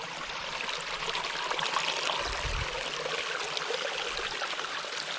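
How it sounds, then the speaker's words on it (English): A snowmelt mountain stream on Mount Kosciuszko in Australia flows in a steady, close, continuous rush and babble of water throughout, with no voices. "the snow has created a nice little river for us down here"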